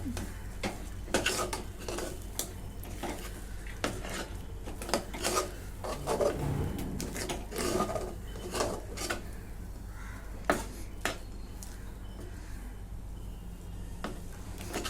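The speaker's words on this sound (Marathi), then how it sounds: "इथं मी वेलची पावडर आणि सुंठ पावडर घेतलेली आहे आता हे सगळं मिसळून घेते" Ghee being stirred together with cardamom powder and dry ginger powder into cooked mung dal puran for puranpoli, a spoon rasping and scraping against the pan in irregular strokes, close and steady with no talk.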